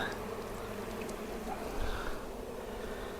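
A dense swarm of honey bees hums steadily around an opened hive crowded with drones, a continuous close, moderately loud drone with no pauses.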